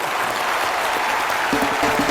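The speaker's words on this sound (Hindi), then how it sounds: "सचिन सर के लिए एक बार ताली बजाओ" An audience claps for Sachin on a studio show, a dense burst of close applause that swells slightly toward the end, with a voice faintly underneath.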